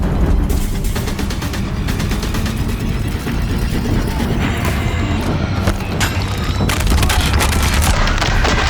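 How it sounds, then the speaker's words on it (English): Deathbringer war machines in Horizon Zero Dawn keep firing during a bridge battle, making a dense, continuous roar of heavy booms and blasts with crashing impacts, loud and close throughout. "If the Deathbringers keep firing, this bridge will go."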